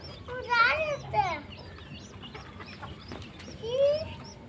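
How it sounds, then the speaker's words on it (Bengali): Native chickens cluck softly while eating feed, a few short calls rising over quiet background, with a voice and other people speaking nearby. "এটা হলো আমার দেশি মুরগিগুলো।"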